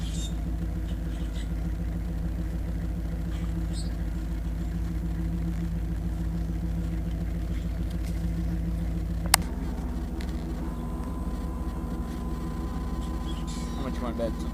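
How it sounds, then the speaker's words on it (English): A car engine idles steadily in the background, a low continuous rumble under nearby talk, with a sharp click partway through. "That's my dad's car running in the background."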